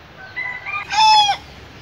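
Near a backyard chicken and bird coop in rural Vietnam, a rooster crows once at close range. The call builds from a softer opening into a loud, strained peak that cuts off abruptly, followed by quiet background.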